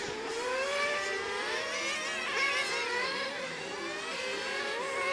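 Nitro-fueled drag racing engines at a Penrith track roar and whine continuously, with rising and falling pitch sweeps of several engines at middle distance.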